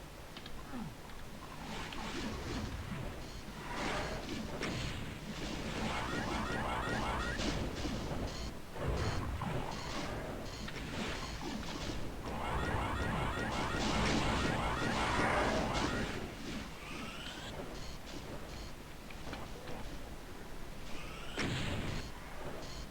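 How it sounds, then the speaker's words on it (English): Chaingunners in Doom 2 fire repeatedly in dense, continuous bursts of rapid gunfire, with other combat noises and monster sounds mixed in throughout. "it keeps teleporting in chain gunners around the place"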